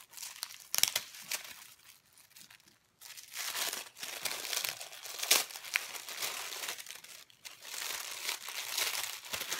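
A paper parcel is unwrapped up close: bursts of crisp crinkling and rustling paper come in uneven waves with short pauses, loud and alone with no talk.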